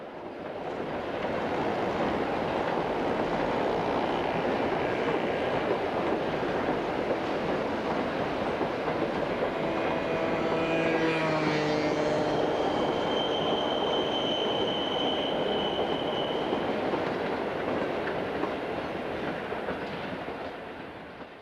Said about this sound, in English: seen here in Normandy at the head of a train from Caen to Paris